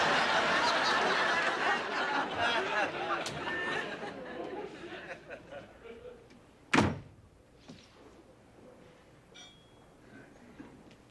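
A door in a sitcom home opens with one sharp, loud thunk, after a stretch of indoor chatter and audience laughter that fades before it. A few faint bumps follow.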